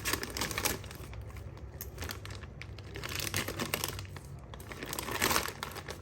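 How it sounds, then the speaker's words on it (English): Scissors cut and pull a plastic bag off fresh mackerel, making close, continuous crinkling and rustling with small snips and crackles, fairly quiet, with no talking. "now I'm just going to take off the plastic bag"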